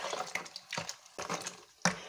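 Tap water gushes into a container of sugar syrup for homemade Moldovan grape wine, coming in several close, intermittent bursts of splashing flow separated by brief pauses.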